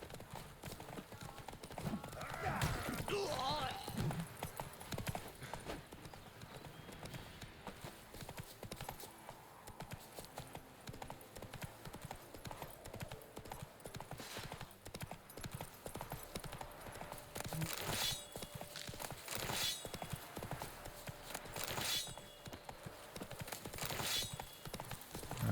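Steady hoofbeats of a galloping horse in the video game Witcher 3, a continuous clip-clop at moderate distance with occasional game effects and a faint voice in the background.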